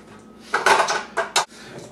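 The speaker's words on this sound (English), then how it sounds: "And we're going to put it right here on a broiler pan." Broiler pan lined with tin foil being handled, giving a few brief clattering metallic knocks and crinkles: a cluster of handling noise, then two sharp separate clanks, close and fairly loud.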